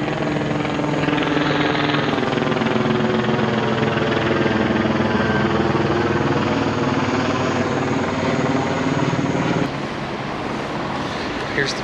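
A helicopter landing on a California freeway roars close by with continuous rotor chop and engine noise. The sound holds steady and loud throughout, easing slightly near the end.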